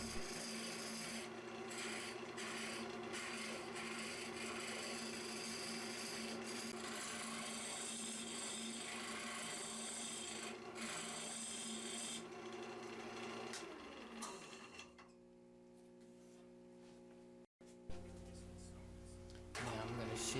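A round carbide tool hollows out a Canarywood salt cellar on a wood lathe, giving a steady, loud rasping scrape that continues without a break, then cuts off and leaves a quieter motor hum.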